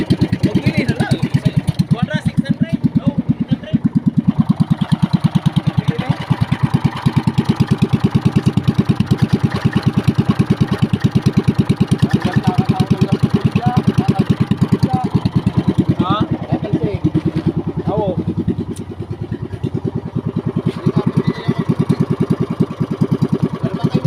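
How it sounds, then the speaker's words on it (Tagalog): A motorcycle engine runs steadily throughout, a loud continuous rumble with slight rev changes, while people talk over it nearby. "Ang ganda ng tumakbo at tumunog ng makina."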